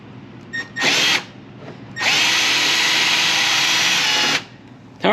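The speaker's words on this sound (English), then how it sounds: "we've just drilled two holes, one here and one here at the top" A power drill bores holes in the mounting plate of an Atwood GR16-EXT RV water heater. A short whining burst is followed by a longer, loud, steady drilling run, and another burst starts at the very end.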